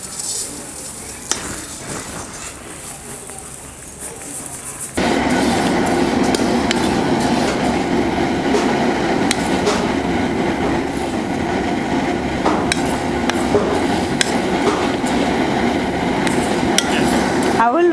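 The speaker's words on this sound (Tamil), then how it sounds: "அதே நெய்யில் நம்ம எடுத்து வச்சுருக்க அவலை சேர்த்து நல்லா வறுத்து எடுத்துக்கலாம்" Flattened rice (aval) roasting in ghee in a pan, a dense continuous sizzle and crackle that starts abruptly after a quieter stretch and stays loud and steady.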